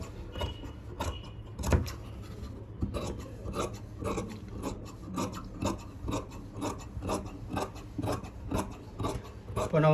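Fabric for a semi-patiala pant is cut with scissors in a series of close, rhythmic snipping and rasping strokes, with soft rustling of the cloth between the cuts.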